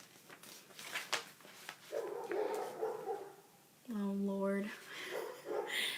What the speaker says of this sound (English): Please excuse my crazy dogs.